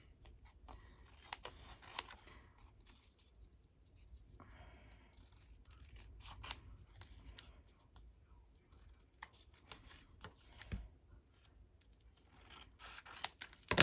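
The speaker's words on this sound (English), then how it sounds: "So I'll just trim this one off, and I'll do one in ledger paper" Scissors snip and trim paper tags while crafting, giving faint, quiet, scattered clicks and rustling cuts in short bursts.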